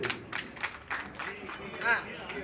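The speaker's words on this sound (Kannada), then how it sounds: "ಜೋರಾಗಿ ಚಪ್ಪಾಳೆ ಹೊಡೀರಿ." An audience at a Congress party office meeting claps in scattered bursts, while a voice talks over the applause.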